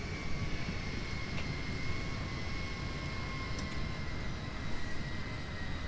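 Airplane engine drone in the video game GTA 5 during a roleplay flight, a steady, dense roar that holds unbroken and loud, with no voices over it.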